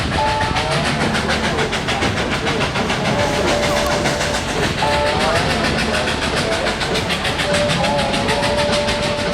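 The Dollywood Express train rolls steadily along the tracks through the Smoky Mountains with a continuous loud rumble and rhythmic clatter, and a faint whistle-like tone rises and falls over it.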